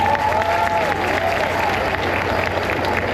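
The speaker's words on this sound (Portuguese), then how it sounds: "uma salva de palmas para os participantes" Audience applause for the participants at the opening of a national culture committees meeting in Brasília, a steady, dense wash of clapping from a crowd, continuous for a few seconds with a faint tone ringing over it.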